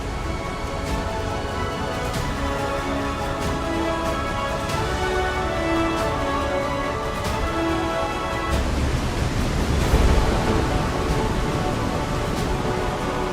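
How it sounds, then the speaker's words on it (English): A dense, continuous roar of a large waterfall in Zambia thundering over a cliff edge, loud and steady throughout with no pauses. "More than 500 million liters of water thunder over the cliff edge every minute"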